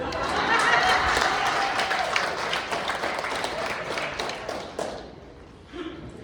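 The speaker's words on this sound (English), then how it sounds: "My paper said to tell the people to clap harder." Audience applause at an awards gala fills the hall as dense, steady clapping from many people, fading toward the end with a few scattered claps left.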